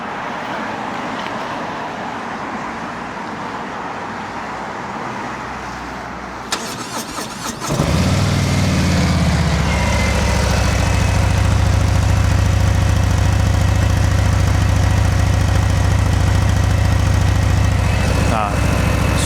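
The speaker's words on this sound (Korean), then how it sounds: "투어링에 들어가는 순정 배기음" A Harley-Davidson touring motorcycle with stock exhaust turns over and settles into a loud, steady idle with a deep low rumble, preceded by quieter background noise.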